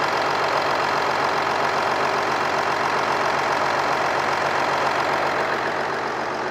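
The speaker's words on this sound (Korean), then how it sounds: "엔진 소리 먼저 한번 들려드릴게요" A Kia Mohave The Master diesel in near-new condition idles steadily, heard close up from the open engine bay with a constant, even diesel rumble and clatter throughout.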